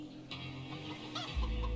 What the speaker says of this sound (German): Und da haben wir schon ein paar Hühner.